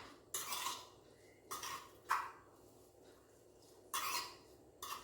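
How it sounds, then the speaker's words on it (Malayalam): A spoon stirs and mixes a mixture in a bowl or pot: faint, irregular scraping and clinking strokes, several short bursts spread out over a few seconds, with no talk. "ഇപ്പം ഇത് നമുക്ക് നന്നായിട്ടൊന്ന് മിക്സ് ചെയ്ത് കൊടുക്കാം"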